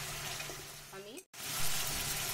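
Sizzling spice mix for a pointed gourd curry, with water poured in, a loud broad hiss with bubbling, a brief cut-off midway, then steady frying noise close up.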